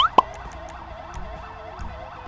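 An ambulance siren in GTA V with the LSPDFR police mod wails in a steady repeating rise-and-fall pattern at moderate distance, opening with a brief sharp blip, with no voices.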